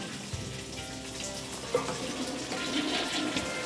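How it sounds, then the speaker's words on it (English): A toilet flushing in a bathroom, a rushing, gurgling run of water lasting several seconds at moderate loudness, with no talk over it. "Stop flushing the toilet!"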